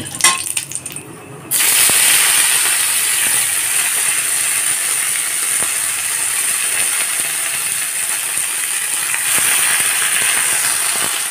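Drumstick flowers go into hot oil tempered with nigella seeds and dried red chillies, setting off a sudden loud, even hiss after a few clinks that holds steady for several seconds, near and without voices.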